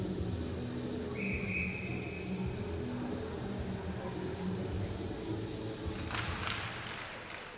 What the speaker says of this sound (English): There's a whistle, and we'll have a face-off down in the Lincoln zone.